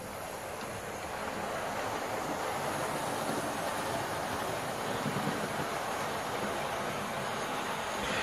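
A Hornby Railroad model train, a Patriot class locomotive pulling BR Mk1 coaches, runs around its track with a steady, faint rolling rumble and rattle that continues without break.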